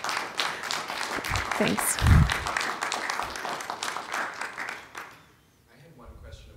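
Audience at a DrupalCon Nashville 2018 conference session claps briefly at the end of a talk, a scattered burst mixed with talk that fades out after a few seconds.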